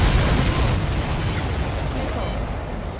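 Explosions in the Ace Combat 7 video game, a continuous low rumbling barrage of booms and bursts, loud and dense throughout with no clear gaps.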